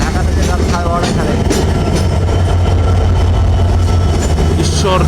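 A Banglabandha passenger train out of Dhaka runs along a railway line, giving a loud, steady rumble with rattling wheels and wagon noise that holds throughout with no pause.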